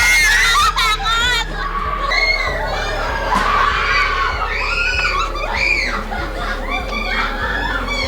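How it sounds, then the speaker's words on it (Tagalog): Loud, overlapping screams and shrieks from a group of people inside a haunted house, with shouting and some nervous laughter over a steady low rumble. "Nakakakilabot ng mga tunog at mga sigaw mula sa mga naunang pumasok."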